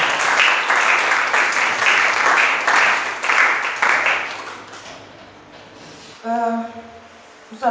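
A church congregation applauds, a loud dense wash of clapping that fades away after about five seconds, followed by a brief voice.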